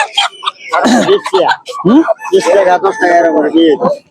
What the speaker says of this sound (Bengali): দেশি মুরগিগুলো একটু দেখে নেই একদম গ্রামের মুরগি